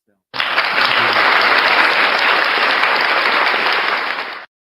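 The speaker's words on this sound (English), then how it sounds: "Give you a little applause, Earl Carr." Applause from an audience for a member being recognized at an event, a steady, dense burst of clapping lasting about four seconds, loud and close, starting and stopping abruptly.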